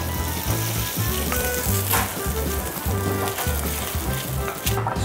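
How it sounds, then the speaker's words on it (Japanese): Ground meat sears in a frying pan for a pasta meat sauce, giving a steady, dense sizzle with occasional crackles and pops, close and continuous with no speech. "お肉炒めていきます。 しっかり焼き目をつけるように焼いていきます。"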